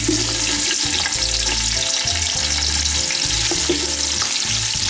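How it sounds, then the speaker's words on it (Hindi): Onions fry loudly in hot oil for chicken pulao, a dense, continuous sizzle close up with low rumbling bubbling underneath. "ऑयल हमारा गर्म हो चुका है। अब हम इसमें प्याज डाल देंगे।"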